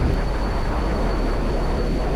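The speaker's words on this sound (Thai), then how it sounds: "F16 มาแล้ว" An F-16 jet flying overhead in Battlefield 2 on the Wake Island map, a steady loud roar of engine noise with no speech.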